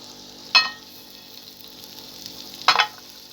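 Potato pieces fry in butter in a pan, giving a soft steady sizzle with two brief louder crackling bursts as more pieces go in.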